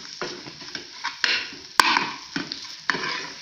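Aloe vera karahi frying in a pan, a close, even sizzle broken by repeated scraping stirs and one sharp metallic clink of a spoon against the pan, no voices.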